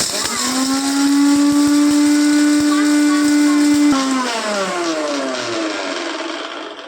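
An Indian mixer grinder (mixie) whirs loudly as it grinds ingredients for cheese balls, a steady high motor whine that holds for several seconds and then drops in pitch as it winds down.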